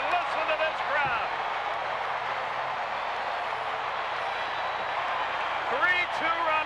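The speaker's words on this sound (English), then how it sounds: "Look at the mob scene at home plate and listen to this crowd" Stadium crowd roaring after an Atlanta Braves walk-off win in 1992, a dense, sustained wall of cheering that stays loud throughout, with whistles and shouts rising near the end.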